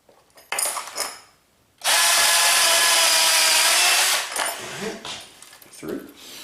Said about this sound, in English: First thing here is to go ahead and drill this one out.